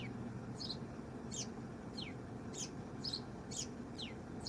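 Small birds give repeated short, high chirps every half second or so, a little way off outdoors over a steady low background hum.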